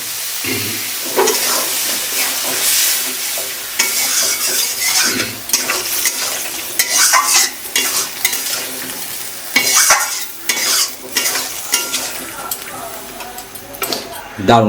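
Soybean stir-fried in a pan with turmeric water, loud sizzling and hissing with repeated clattering spatula strokes against the pan, a voice talking over the cooking.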